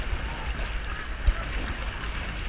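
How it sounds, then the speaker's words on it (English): Choppy lake water sloshes steadily around a kayak on an outing along Door County, Wisconsin shoreline caves, a continuous low wash of waves with one brief thump near the middle. "Waves have picked up."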